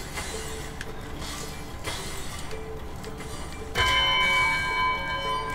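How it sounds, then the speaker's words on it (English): Several bells ring out in Spyro 2: Ripto's Rage, a steady metallic chiming under a game soundscape that swells louder and brighter near the end. "Okay, so I gotta ring all the bells."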